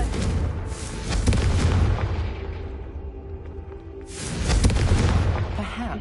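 A Confringo fire spell explodes in Hogwarts Legacy, two broad booming blasts a few seconds apart, each a dense rumbling roar that swells and fades, loud and close.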